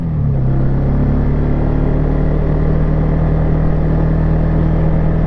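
A 2001 Yamaha Bear Tracker 250 ATV engine runs at a steady, loud, close-up drone with a constant low rumble and no talking.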